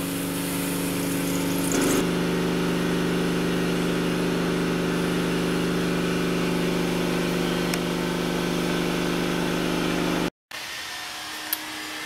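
A Dodge truck engine runs at a steady idle during an A/C recharge, producing a constant droning hum with a slight rise early on and then staying even, before cutting out briefly near the end.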